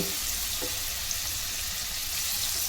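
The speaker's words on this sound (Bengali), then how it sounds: "তেলটা গরম হয়ে গেছে, সেদ্ধ গাজরটা একটুখানি নেড়ে নিচ্ছি যাতে টেস্টটা ভালো হয়" Boiled carrots frying in hot oil, giving a steady, close sizzle with a faint stirring movement early on, even in level for a few seconds, with no one talking.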